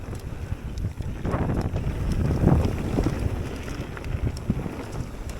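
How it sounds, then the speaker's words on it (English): Cold wind buffets the microphone while mountain biking at Tarland Trails in Scotland, a gusty rushing roar that swells in the middle, mixed with light rattling clicks from the bike on the trail. "There's a little bit of wind, not too bad, but it's cold, the wind."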